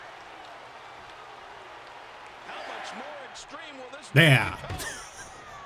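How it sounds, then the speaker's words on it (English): A wrestling crowd in the WWE 2K14 video game reacts during an Extreme Rules match, a rising roar of cheers swelling under a commentator's voice and peaking in a sharp loud burst near the end. "Interesting crowd reaction."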